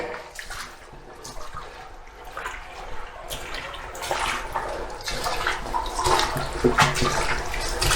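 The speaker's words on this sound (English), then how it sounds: "Ladies and gentlemen, I give you the Jordan River." Water rushing through the Jordan River, one of Liverpool's lost rivers now running underground, a steady broadband flow echoing in the tunnel and swelling slightly louder toward the end, with no talk over it.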